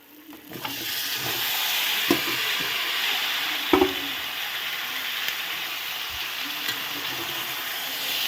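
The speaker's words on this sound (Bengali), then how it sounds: "সবজিগুলো দিয়ে একটু নেড়ে দেব" Garden vegetables for a Bengali chorchori stirred into oil-fried spices in a pan, giving a steady close sizzle with scraping stir strokes throughout, no talk.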